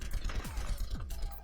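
Rapid gunfire from the Overwatch video game comes in a tight burst of about four to five sharp shots in quick rhythm, loud and close, with no voices.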